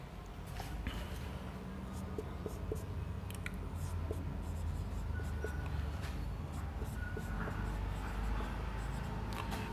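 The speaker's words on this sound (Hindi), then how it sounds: "तो फर्स्ट पॉइंट लिखेंगे" Pen or chalk writing out a first point in a classroom lesson: continuous scratchy strokes with small taps, steady and fairly close, with no talk over it.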